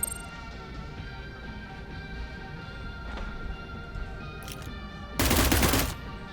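A weapon in the video game Cyber Knights Flashpoint fires one short, loud burst near the end, after a quiet stretch with faint ticks and low game ambience.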